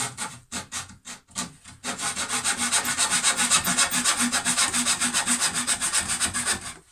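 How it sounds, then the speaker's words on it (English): A Japanese pull saw cuts through pallet wood while building a laundry hamper. A few separate strokes come first, then a steady, rapid rasping rhythm of close, loud saw strokes. "So you'll be using a Japanese pull saw to level this off then with the top."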